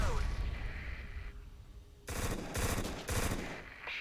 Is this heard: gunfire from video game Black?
yes